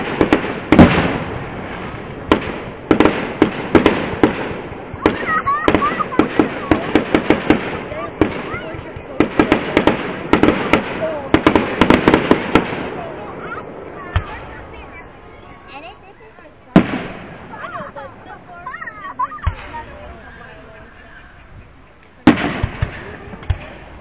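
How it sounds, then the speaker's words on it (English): Fireworks display in Luray, Virginia for the Fourth of July, heard from close beneath it: dense loud bursts and crackling pops, heaviest early then thinning to scattered booms, with crowd chatter underneath. "This is the fireworks in Luray, Virginia."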